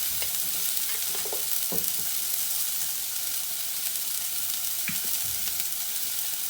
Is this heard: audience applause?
no